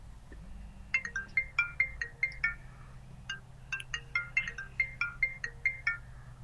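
A phone ringing on an outgoing call to an external number through a VoIP system, two bursts of rapid trilling electronic ring tones separated by a short pause, moderately quiet over a low background hum.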